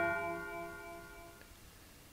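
A Big Ben bell tolls once in the PlayStation game Silent Hill, a ringing metallic strike with clear overtones that slowly decays over about a second and a half before a sharp click at the end.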